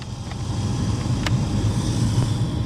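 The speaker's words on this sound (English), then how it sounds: "As you can hear, the blower motor" A restricted, noisy blower motor in a Nissan Xterra with a clogged cabin air filter, giving a steady, muffled low whir and hum with weak airflow, alone with no talk.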